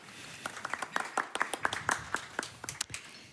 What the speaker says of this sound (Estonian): Võime jälle plaksutada.